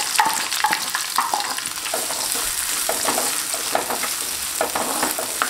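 Fenugreek seeds and chopped shallots frying in oil for a Kerala-style sardine curry, a close, loud, continuous sizzle with crackling pops and stirring clicks throughout.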